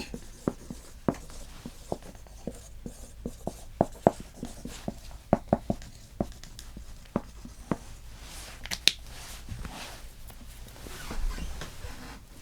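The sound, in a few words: writing down names of the All-Star substitutes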